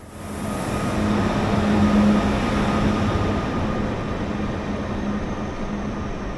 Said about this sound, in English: rolling in with beds on board around 15 minutes before departure is our new Nightjet train